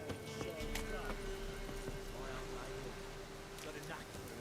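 Horses' hooves clip-clopping in The Witcher 3 video game, faint and steady under game ambience and a low hum, with characters talking over it.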